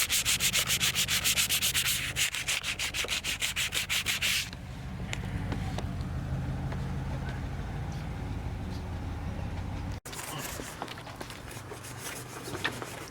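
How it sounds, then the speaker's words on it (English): A car part is sanded by hand with sandpaper in fast, loud, rhythmic back-and-forth strokes, then comes a quieter stretch of softer rubbing and handling. "can you hand me another sandpaper?"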